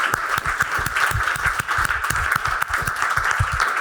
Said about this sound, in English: So just one more final round of applause for Hannah.